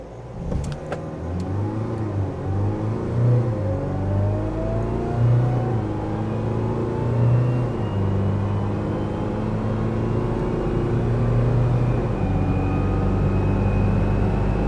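A JAC T9 pickup in all-wheel drive accelerates hard, its engine note rising steadily and loud from up close for the whole stretch, with no one talking.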